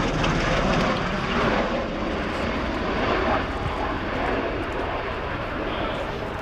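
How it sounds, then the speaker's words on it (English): A Bell-Boeing CV-22B Osprey tiltrotor of the US Air Force flies past at an airshow while decelerating, its engine and rotor roar loud and sustained throughout, with a commentator talking over it. "we'll shortly see the aircraft beginning to decelerate and convert to VTOL, vertical takeoff and landing mode"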